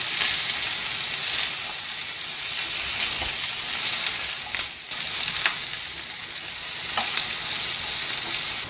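Chopped ridge gourd fries in a pan with a steady, loud sizzle and crackle, stirred now and then, with a brief dip midway.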